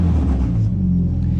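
A loud Mazda Miata engine idles just after starting, a heavy, steady low rumble that fills the whole stretch without a break.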